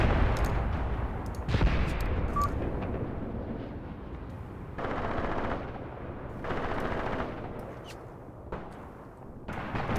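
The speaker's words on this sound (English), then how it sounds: "Looks like my tanks are receiving mortar fire." Sustained machine-gun and rifle fire rattles across a battlefield in the Graviteam Tactics: Mius Front war game as mortar rounds land around tanks, the shooting swelling in dense bursts and easing between them.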